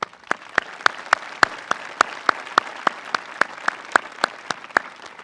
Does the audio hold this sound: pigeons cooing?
no